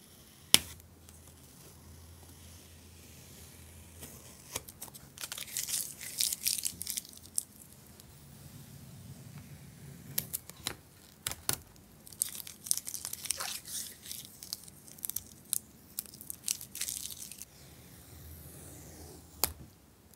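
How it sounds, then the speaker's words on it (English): Masking tape peeling off paper in repeated crackly, tearing strips, with intermittent rustles and small clicks between pulls, close and fairly quiet. "It is time to remove the masking tape."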